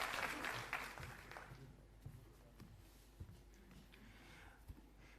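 A crowd claps to welcome Deputy Chief Minister Manish Sisodia at an Aam Aadmi Party gathering after the MCD election win; the applause starts fairly strong, then thins to scattered claps and knocks.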